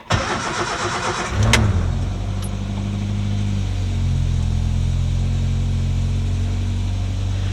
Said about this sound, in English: start the car up, just check for leaks.